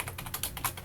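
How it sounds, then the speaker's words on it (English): Typing on an extremely loud computer keyboard: rapid, close, sharp clicking keystrokes in an uneven rhythm, with no voice over them. "I'd also like to apologize for the terrible audio quality and my extremely loud keyboard."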